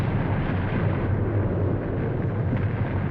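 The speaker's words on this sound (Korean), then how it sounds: "거대한 굉음과 함께 얼어붙은 천지를 뚫고" Sound effect of the Baekdu volcano erupting through a frozen crater lake: a continuous, dense, heavy roar with deep rumbling low end, loud and sustained throughout without pauses.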